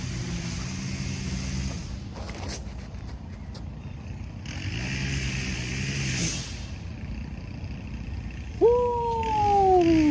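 A string trimmer runs nearby on a disc golf course in Bellefontaine, Ohio, its two-stroke engine whining up and down in two long revving bursts over a steady outdoor rumble, followed by a brief ringing tone near the end.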